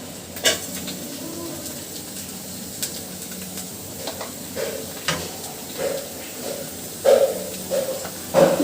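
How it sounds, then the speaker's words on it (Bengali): A cooking pot lands on a stove and onions and green chilies are added, giving scattered metallic clanks and knocks of a pot and utensils at close range, with faint hiss in the background. "তরকারি রান্না করার জন্য এখানে আমি পাতিলটা বসিয়ে দিলাম। এখন এর ভিতরে দিয়ে দিব আমি পেঁয়াজ কাঁচামরিচ।"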